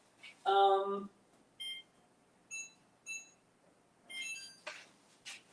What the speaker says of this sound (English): Let's do the timer for 20 minutes.